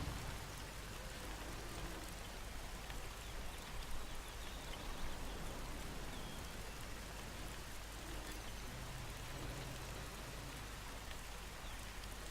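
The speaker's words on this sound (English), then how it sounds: "Maybe the sound of rain, it's relaxing." Steady rain falling, a dense, even hiss of drops on surfaces that runs unbroken and fairly soft throughout, with no voices.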